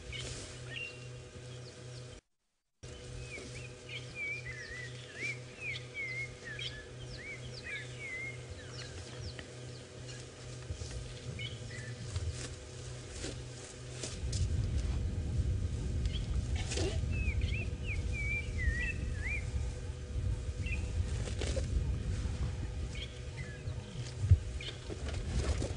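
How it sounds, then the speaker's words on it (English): Repeated whistling calls of a black-crowned tchagra in two bouts, fairly distant, over a constant low rumble that grows louder partway through. "that bird in the background that sounds like it's whistling almost, like a wolf whistle"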